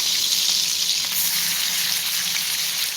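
Steaks sear in a cast iron skillet over high heat, giving a loud, steady, close sizzle that runs unbroken, with no talking.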